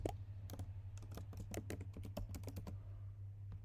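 Rapid typing on a computer keyboard, uneven clusters of close key clicks over a steady low hum, fading near the end; no one speaks.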